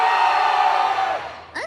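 A cosplay show audience roars in one loud sustained cheer and shout that fades away, followed by a brief voice at the end.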